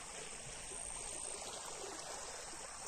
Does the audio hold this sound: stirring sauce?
no